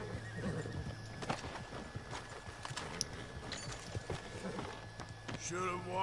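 Horses in the Red Dead Redemption 2 video game whinny and neigh with clip-clopping hooves throughout, set among game ambience, with a speaking voice partly overlapping the animal sounds.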